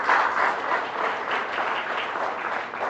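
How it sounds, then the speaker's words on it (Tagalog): Audience applause at a motivational talk, a steady wash of many hands clapping, fairly faint and even for the whole stretch. "Sino gusto pumalakpak dyan?"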